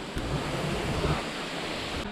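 Water from a waterfall plunges into a cave at the foot of a deep karst sinkhole, a brief, continuous, near rushing roar at an even level throughout, with no one speaking.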